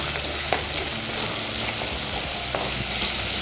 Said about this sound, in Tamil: இப்போ இதை நல்லா வதக்கிடலாம் இப்போ வந்து பார்த்திங்கன்னா தக்காளி நல்லா வதங்கிடுச்சு